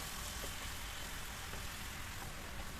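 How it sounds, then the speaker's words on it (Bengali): Mushrooms fried and stirred with spices in a pan, giving a steady, soft sizzle with faint stirring scrapes that runs unbroken and fairly quietly throughout. "সে সবগুলো মাশরুম দিয়ে দিলাম। এবার আমি একটু নেড়ে চেড়ে কষিয়ে নেব।"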